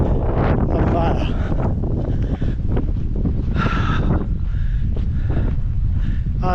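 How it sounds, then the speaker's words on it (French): Strong wind at a mountain pass near Lanslebourg buffets the microphone in loud, continuous gusty roaring, with someone speaking French over it. "Regardez-moi ce vent de con qu'il y a là."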